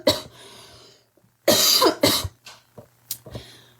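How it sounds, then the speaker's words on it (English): A person coughs in several bursts, one harsh fit and then a few shorter coughs and throat clearing, close and loud, with brief silent gaps between them. "excuse me, trying to avoid a coughing fit"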